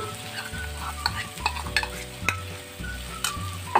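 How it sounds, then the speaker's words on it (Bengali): Dried Bombay duck fish paste goes into hot spiced oil, sizzling and frying while a utensil stirs and scrapes the pan in repeated uneven strokes, close and clear with no voices. "এইবার আমি এর মধ্যে পেস্ট করে রাখা লোটে শুটকিগুলো দিয়ে দিচ্ছি"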